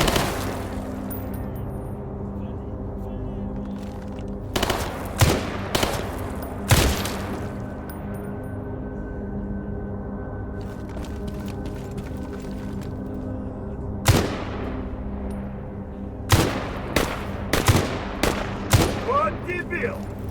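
Gunfire in Stalker Gamma: single sharp, loud shots ring out in scattered groups over a steady low hum, a few isolated reports early and a quicker cluster near the end.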